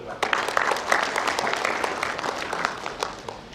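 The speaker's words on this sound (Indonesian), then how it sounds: "Oke, tepuk tangan dulu." Audience applause at a 2016 university undergraduate graduation ceremony, a steady patter of many hands clapping through the whole stretch at moderate level.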